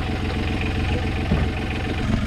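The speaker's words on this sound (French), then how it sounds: "là j'ai un peu baissé le régime au moteur" A boat engine idling at lowered revs, a steady close-up throbbing drone with a regular low pulse and no talk over it.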